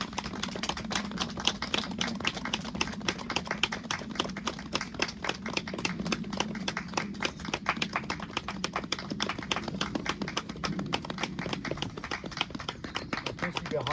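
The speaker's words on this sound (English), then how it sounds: "Keep going. Keep clapping." Sustained hand clapping at a coffee morning, a long steady stream of crisp, close claps with a low murmur of voices underneath throughout.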